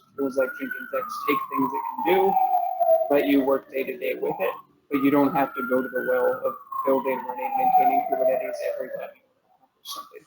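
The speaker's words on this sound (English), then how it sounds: "that's the siren that goes off every time you have a Kubernetes provisioning problem." A wailing siren sound effect rises and falls in two long sweeping cycles, played under someone talking continuously about software tools.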